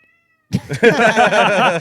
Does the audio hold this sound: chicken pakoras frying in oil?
no